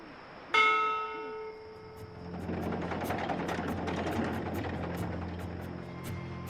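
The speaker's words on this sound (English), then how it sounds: "From what I've learned traveling on cloud ships, this is a ship's bell." A ship's bell on a cloud ship in the video game Dreamfall Chapters strikes once, loud and ringing, then fades into a steady engine-like hum with faint clicks and taps.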